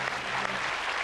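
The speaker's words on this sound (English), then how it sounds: "Give him a round of applause." Brief burst of studio audience applause on a comedy chat show, dense clapping at an even level with a faint low hum underneath.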